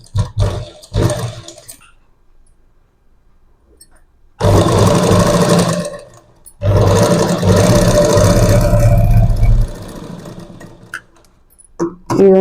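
A sewing machine stitching across the neckline of a work blouse with a half-inch cross seam: two loud, sustained runs of rapid whirring separated by a short pause, with a few brief clicks before and after.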